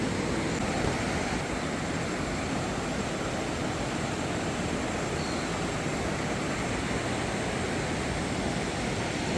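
Steady broadband rush of river water on the way to Barkot and Yamunotri temple, constant and even, moderately distant with no voices.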